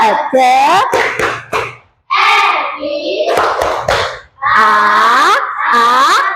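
A primary school class does a rhythmic clapping chant before lessons, children's voices chanting in bursts punctuated by sharp group claps, loud and close, with brief pauses between phrases.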